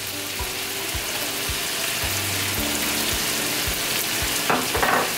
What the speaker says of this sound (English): stir fry for about 30 seconds